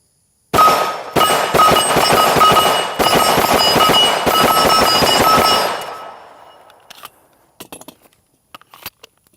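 A Sig P320 pistol fitted with a CAA MCK micro conversion kit fires a rapid, loud string of shots for about five seconds, followed by a fading echo and a few faint metallic clicks.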